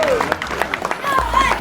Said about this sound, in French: c'est gentil ça, les applaudissements pour Léo Rossel